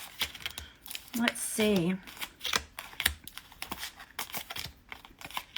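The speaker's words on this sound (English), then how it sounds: "I didn't give them a proper shuffle. So we shall do that now." A deck of cartomancy cards is shuffled by hand with crisp, irregular clicks and flutters, close and fairly quiet, alongside a brief spoken remark.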